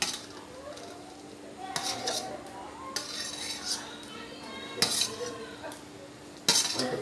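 Boiled eggs are dropped into a pot for a Bengali egg curry with potatoes and lentils, giving scattered metallic clinks and clatters of utensils while voices, including a child's, murmur in the background.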